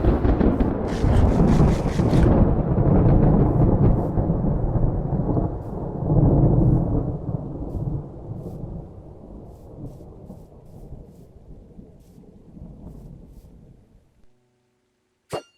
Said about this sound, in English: now let's see if we can get you struck by lightning